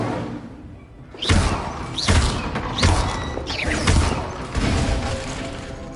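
Incendio fire spell cast repeatedly in a Harry Potter video game, several loud whooshing bursts of flame about once a second with crackling and thudding impacts.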